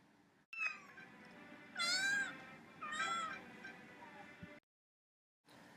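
A cat meows several times, two long, drawn-out wavering meows plus shorter calls, fairly close and clear over a quiet background, ending in brief silence.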